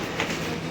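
A Singapore tram heads toward Marina Bay, heard from on board as a steady close rumble of rolling wheels with a faint rhythmic clatter and a brief brighter swell partway through.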